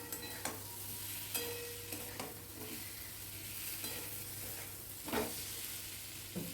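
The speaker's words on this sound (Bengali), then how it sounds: "ভালো করে আলুটা দিয়েও কষিয়ে নিলাম" Potatoes sautéing in a pan give a steady low sizzle, broken by several sharp scrapes and clanks as a spatula stirs them, with no voices.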